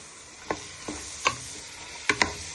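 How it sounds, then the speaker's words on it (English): Onion, pepper, garlic and chilli frying in a pan give a low sizzle, with a spoon stirring through them in a few sharp knocks and scrapes, close and sparse. "Now you want to add in your onion, pepper, garlic and chilli to your pan."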